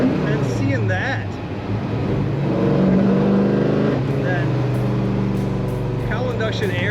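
A 1972 Chevrolet Chevelle muscle car pulls under throttle while driving, its engine drone steady and rising slightly in pitch, close and loud throughout, with someone talking over it.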